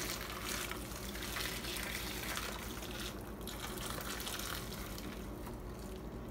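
Boiling water pours steadily into a bowl holding a Winx Club Bloom doll seated with her hair laid out, a continuous close gushing splash that runs for several seconds with no talk.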